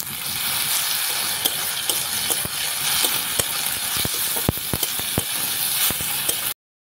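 Onions frying in a cooking pot give a continuous loud sizzle, broken by scattered sharp pops and clicks of spattering oil and stirring, before stopping abruptly.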